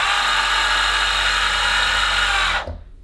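A Koowheel second-generation electric skateboard motor whines steadily at high speed in fast mode, a loud, close, constant electric drone that cuts off abruptly near the end.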